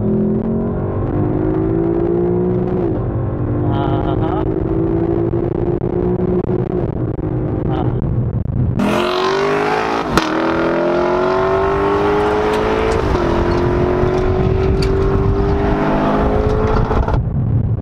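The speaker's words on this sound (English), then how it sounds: "glorious downshifts, 5th, 4th, 3rd, 2nd" A loud Lexus LC500 sports car engine with a 10-speed gearbox revs and drops through downshifts from fifth to second, pitch stepping back up with each gear change, close and continuous.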